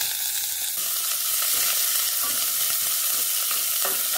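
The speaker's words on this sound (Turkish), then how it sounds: "Sıvı eklemeden patlıcan kızarttığım tencereye soğanlar koyalım." Onions sizzle loudly in a pot just used for frying eggplant, without added liquid, a steady hissing fry with occasional stirring scrapes and no talking.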